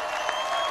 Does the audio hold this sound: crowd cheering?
yes